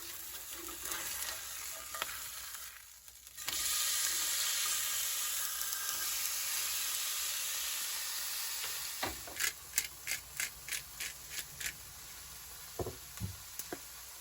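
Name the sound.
pork steak frying in a pan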